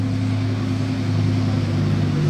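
A deep, steady engine rumble from a Ferrari Daytona SP3 holds at a constant level, idling or revving low, loud and close with no talk.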